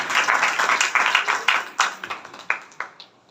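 A church congregation at a Christmas morning sermon breaks into loud applause, dense clapping that thins into a few scattered, separate claps before fading out.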